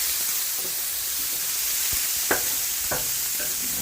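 Small bacon lardons sizzle in a freshly deglazed pan, a constant bright hiss with a few scraping stir sounds and light clinks, close and moderately loud, with no one speaking.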